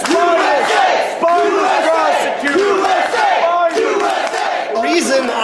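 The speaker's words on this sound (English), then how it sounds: "We're gonna clap him out." At a campaign event, a large crowd chants and shouts in loud repeated rhythmic bursts, with brief dips between phrases, as a man is clapped out of the event.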